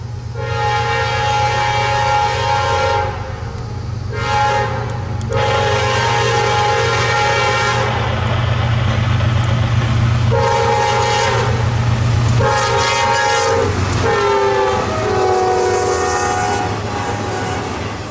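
Southbound intermodal freight train QO37, bound for Jacksonville, rumbles past at Folkston, Georgia, sounding repeated long horn blasts over the continuous roar and clatter of the rail cars, loud and close.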